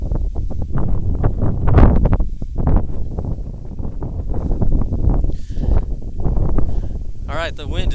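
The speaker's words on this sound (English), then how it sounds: "the wind is really picking up" Strong wind at a boys' cross country state championship course gusting hard into the microphone, a loud rough rumble that rises and falls in buffeting waves, with voices briefly audible.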